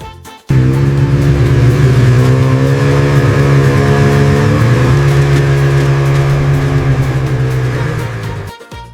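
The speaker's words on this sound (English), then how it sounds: "Snowmobile. Snowmobile." A snowmobile engine runs loud and steady for several seconds, a continuous droning roar with no voices over it.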